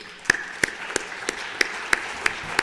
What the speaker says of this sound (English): give her a round of applause for her strength and her courage